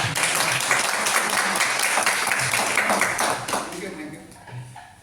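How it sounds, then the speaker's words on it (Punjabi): A crowd at a business meeting claps in a dense, steady burst of applause that gradually thins and fades toward the close, with a voice faintly audible beneath it. "ਇੱਕ ਤਾੜੀ ਤੁਸੀਂ ਆਪਣੇ ਵਾਸਤੇ"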